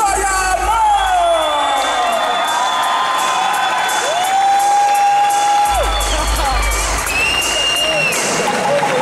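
A large crowd cheers, whoops and applauds loudly and without a break for a costumed contestant at a cosplay parade final, with high shouts and whistle-like tones rising over the steady roar.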